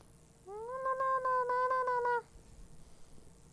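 A cat meows in one drawn-out, wavering call lasting nearly two seconds, fairly clear and upfront against a quiet background, with no talk during it.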